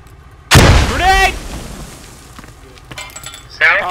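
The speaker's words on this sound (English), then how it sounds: "Grenade! Grenade!" A grenade goes off in the military shooter Squad: one loud, sharp blast, then a voice rings out right over the tail of it, and another short loud hit lands near the end.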